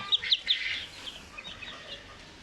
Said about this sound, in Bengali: এই হচ্ছে একটা ফার্মি মুরগির বাচ্চা